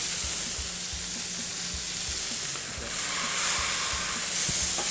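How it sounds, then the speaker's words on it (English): Pork tenderloin searing in oil in a hot pan, giving a steady bright sizzle with soft crackles throughout, close and even, swelling slightly toward the end, with no talk. "It will sear off in a hot pan with some oil for about 2 minutes per side to give it some color and flavor"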